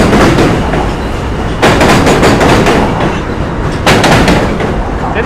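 A New York City Z subway train rolls across an elevated bridge, its steady loud rumble broken by sharp bursts of wheel clatter as cars pass over rail joints, close by and continuous.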